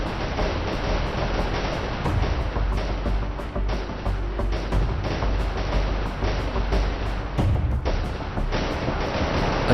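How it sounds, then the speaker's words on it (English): Missile strikes hitting an airbase's hangars, shelters and SAM systems: a dense barrage of overlapping blasts and rumbling impacts, loud and continuous, with repeated sharp cracks punctuating the roar. "A dozen missiles crash through, striking hangars, shelters, and SAM systems."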